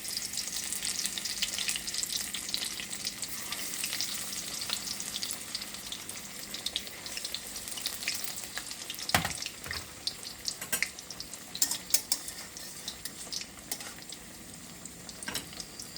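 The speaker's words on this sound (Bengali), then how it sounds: "এভাবে পাতার মধ্যে ভালোভাবে এদিক ওদিক করে গড়িয়ে তারপরে এভাবে ভেজে নেবেন।" Pumpkin leaf fritters, leaves coated in batter, fry in hot oil with a continuous crackling sizzle, broken by a few sharper pops and clinks of utensils, moderately faint and without talk.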